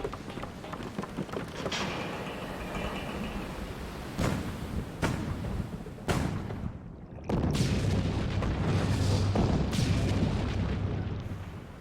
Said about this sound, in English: Cannons have absolutely no effect.